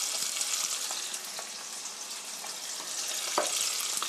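Chicken steak sizzles in a hot pan with a constant crackling hiss, close by and fairly quiet, with a few brief scraping stirs along the way.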